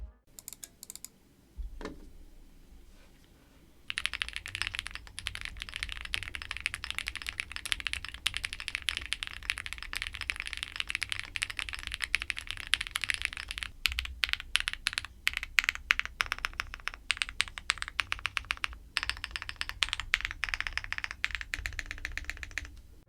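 Rapid clacky typing on an AM AFA R2 mechanical keyboard, dense bursts of keystrokes with a few louder spacebar thocks, close and continuous for about twenty seconds.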